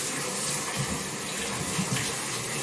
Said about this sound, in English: Now rinse out the rags.